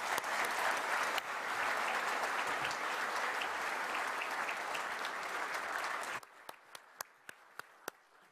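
Conference audience applauding after a keynote address at the IISS Manama Dialogue, a dense round of clapping that ends abruptly, followed by a few scattered single claps.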